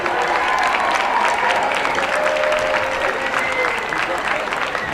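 Sustained applause from an audience at a high school Hall of Fame ceremony held during a football game night, steady and dense clapping throughout, fairly loud and continuous with a crowd ambience.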